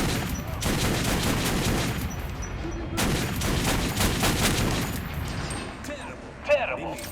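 Repeated gunfire cracks in bursts at a shooting range in Metro Last Light Redux, moderately loud and clustered in two stretches, then thinning out as a voice speaks near the end.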